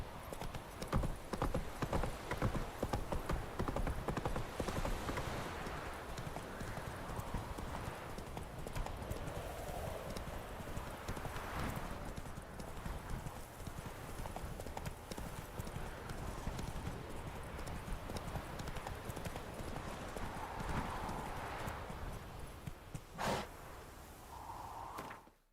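Roach, Geralt's horse in The Witcher 3, gallops with a steady rapid clip-clop of hooves throughout, with a brief whinny and faint snorts near the end and no talk over it.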